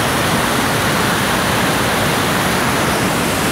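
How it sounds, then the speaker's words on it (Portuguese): Small waterfall at Cachoeira da Chave in Votorantim, a steady loud rush of falling water filling the whole clip with unbroken hiss and roar, close by and with no voices. "Tem uma mini queda d'água aqui"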